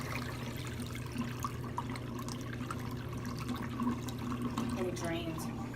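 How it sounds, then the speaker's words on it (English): A Giantex portable compact full-automatic washing machine drains soapy water, making a steady rushing trickle over a low pump hum that runs continuously at moderate volume throughout. "it's actually not going to spin, it's just going to drain"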